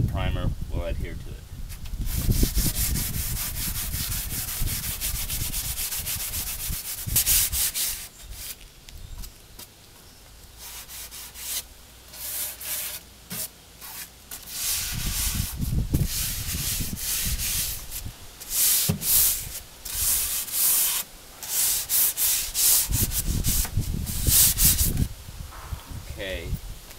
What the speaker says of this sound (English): now that I have it sanded